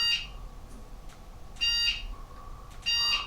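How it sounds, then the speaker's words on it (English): The horn on an Oh Wow Conductor Plus electric scooter sounds as a high electronic beep, repeated three times in short bursts over steady background hum. "That's the horn."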